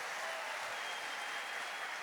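Applause from a church congregation during a sermon, a dense steady wash of many hands clapping at once, sustained and even without a break.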